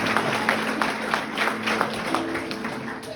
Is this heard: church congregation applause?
yes